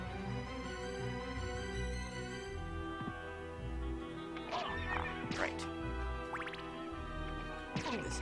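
A horse whinnies and snorts over a steady low background hum, with a few sharp knocks; one short spoken word. From the video game Castlevania: Symphony of the Night.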